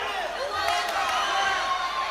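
Steady crowd roar and cheering from a packed arena at an AMMA championship fight, continuous and fairly loud throughout with a few whoops rising above the din, no clear speech on top.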